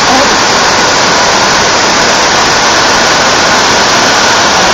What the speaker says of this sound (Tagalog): Ito po ang Minbalot Falls.